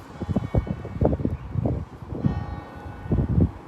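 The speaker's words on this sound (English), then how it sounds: "So can you hear the bells?" Church bells ring in a loose, repeating pattern at a moderate distance at 6:30 in the morning, with soft wind and rustling in the background.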